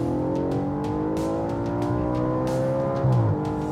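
A high-revving car engine, a high-revving design turning up to 8,200 rpm, is revved hard, its pitch climbing steadily to a screaming peak before briefly dropping. No talking.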